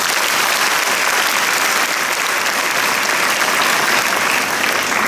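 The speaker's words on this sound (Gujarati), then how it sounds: "એમના માટે જોરદાર તાળીઓ છે." Steady, dense applause from an audience at a school event in Bardoli, loud and continuous for the whole stretch without any voices over it.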